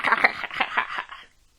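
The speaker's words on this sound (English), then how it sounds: "This is a kookaburra." A kookaburra gives a rapid, cackling laugh-like call of repeated bursts that trail off after about a second, fairly close and alone.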